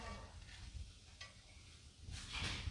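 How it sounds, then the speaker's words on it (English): Dough for Trinidadian doubles frying in a pot of hot oil gives a steady, close crackling sizzle, with brief clinks and stirring scrapes rising near the end. "and then put it in the pot with hot oil"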